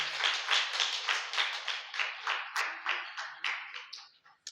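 An audience at a Tamil devotional speech about Murugan claps in a run of rhythmic bursts, loud at first and gradually thinning out into a few scattered claps near the end.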